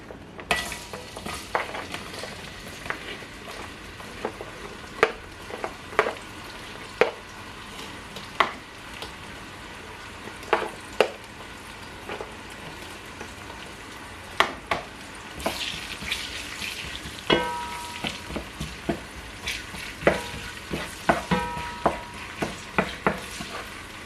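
Onion sizzles and fries in a pot during large-family batch cooking, with repeated scraping stirs and clinks of the utensil against the pot over a steady crackle, close and with no talk.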